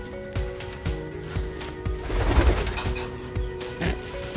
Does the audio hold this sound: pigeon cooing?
yes